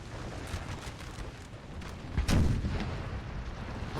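Artillery fire in a Napoleon: Total War 3 battle replay, a low dull boom rising out of a steady rumbling battlefield din, with one heavier report near the middle.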